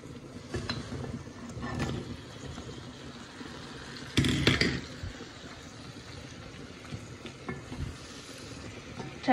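Radish pieces coated in turmeric and spices stirred in a hot pan for a fish curry, a steady sizzle and fry under repeated scraping strokes of the spoon, with one louder clattering stir midway.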